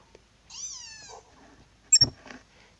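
Litten, the fire cat Pokémon in Pokémon Sun, gives a short rising meow followed by a second sharper cry, each clear and isolated against near silence.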